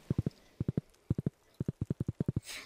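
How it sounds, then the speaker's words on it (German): Horse hooves in the Stardew Valley video game clop along in quick triple-beat bursts, five or six groups in a steady rhythm, close and clear, ending in a short swish with no talk. "So, jetzt geht's ab mit dem Pferd nach Hus."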